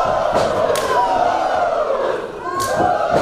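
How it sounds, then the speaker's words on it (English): Wrestlers trading chops in the middle of the ring before a raucous Toronto crowd; several sharp slaps ring out over the roar, each followed by a surge of crowd cheering, with a voice heard early on. "these two now exchange chops in the middle of the ring"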